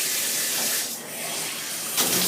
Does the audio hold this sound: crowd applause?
no